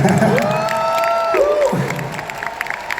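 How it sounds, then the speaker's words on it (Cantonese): A Hong Kong concert crowd at a 40th-anniversary Get Up world tour show breaks into loud applause and cheering, with whoops and shouted voices rising over the clapping before it thins toward the end. "掌聲！"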